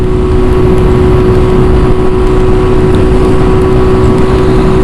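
A Honda Wave 125i motorcycle engine riding in fourth gear, a loud continuous steady drone with a constant pitch and heavy wind rumble, no speech.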